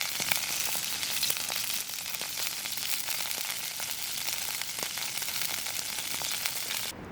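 Floured pieces of perch frying in a pan at a solo spring campsite, a steady, close crackling sizzle with small popping bursts throughout and no talking.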